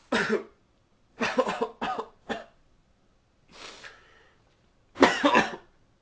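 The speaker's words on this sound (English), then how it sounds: "How long have you had that cough?" Harsh coughing nearby comes in several bursts: one cough, then a quick cluster of three, a softer wheezy breath, and a final hacking fit.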